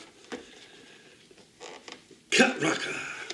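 A Hot Wheels toy car package is handled and pried at, with faint plastic creaks and crinkles followed by a louder burst of crackling and tearing near the end.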